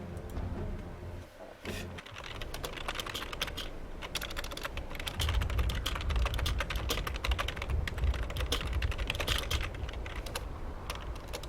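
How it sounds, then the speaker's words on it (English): Rapid typing on a computer keyboard during a Dota 2 inhouse cast, a dense run of close, crisp key clicks and clacks with short irregular pauses, no voices. "I was typing a message"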